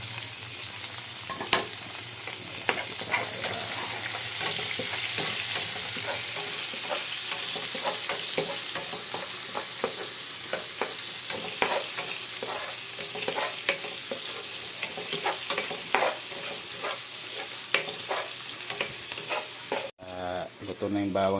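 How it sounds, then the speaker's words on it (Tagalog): Garlic sizzles steadily in hot oil in a pan for breakfast, with frequent clinks and scrapes of a spatula stirring it through, a close, continuous crackle with no talking until a brief break near the end. "Lalagay ko na yung bawang."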